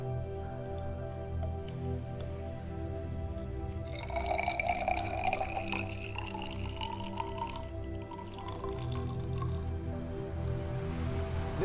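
Water runs into a small measuring container to 35 ml, a trickling pour with a rising pitch as it fills, over a steady low hum and alone without talk.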